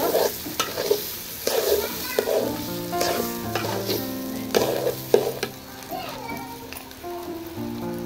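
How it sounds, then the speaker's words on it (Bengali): Chicken leg pieces sizzle loudly in a pan of oil for biryani while a utensil scrapes and stirs in repeated strokes; children's voices chatter in the background. "এখন এটাকে আমি ভালো করে লাড়তে থাকবো, ভাজা পরিপূর্ণ না হয় ততক্ষণ পর্যন্ত।"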